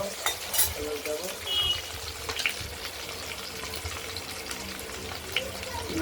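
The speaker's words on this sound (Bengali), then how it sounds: "এবার আলুগুলো ভালো করে ভেজে নেব। আলুগুলো ভেজে নেবো" Potatoes frying in a pan during preparation of a paneer curry with tomato and ground spices, a steady low sizzle with occasional stirring and utensil clinks, close and fairly quiet, with no talk.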